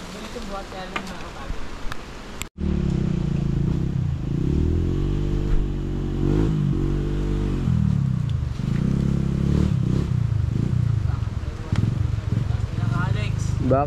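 A dirt motorcycle on a hard enduro climb at Red Bull Romaniacs roars loudly and steadily, revving up and down for a long stretch after an abrupt start, as people talk over it.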